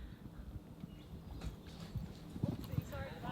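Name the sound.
horse hooves during a jumping course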